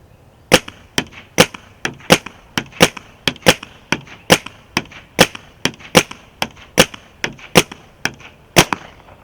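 A Dye DAM paintball gun with a rifle barrel fires at targets about 30 yards away, giving a steady series of sharp, close pops at roughly even intervals with no talking.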